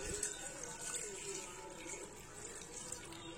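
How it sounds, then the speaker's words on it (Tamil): Water is poured into a pressure cooker holding mutton, a quiet, continuous splashing trickle with small bursts and gurgles over a few seconds. "இதுல தண்ணி சேர்த்துக்கலாம்."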